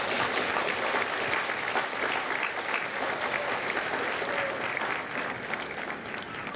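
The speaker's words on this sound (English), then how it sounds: "Give yourselves a round of applause" Steady applause from a large audience at a U.S. Marine Corps recruit graduation ceremony at MCRD San Diego, dense, even clapping sustained throughout at moderate distance.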